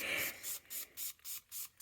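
A spray bottle of 91% alcohol mists the top of cold process soap in about six quick, quiet, evenly spaced hissing pumps up close.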